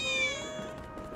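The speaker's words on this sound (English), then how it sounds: "There's a cat." A single drawn-out cat meow from the video game Final Fantasy 7 Remake, clear and fairly close, with a faint background hum and no talking.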